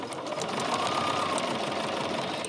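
A sewing machine stitches a quilt-as-you-go quilt, a steady close rapid mechanical whirring that runs continuously throughout.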